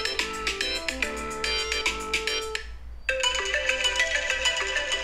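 A melodic phone ringtone plays steadily, a bright synthesized tune of quick repeating notes that pauses briefly and then resumes, with no talking.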